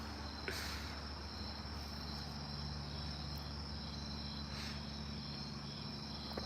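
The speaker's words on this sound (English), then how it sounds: "So hearing crickets is paradise." Crickets chirp steadily in the background, a constant high trill over a low, quiet hum.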